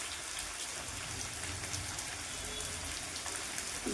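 Potato and pointed gourd fry in a pan with a steady, even sizzle like light rain that continues without a break.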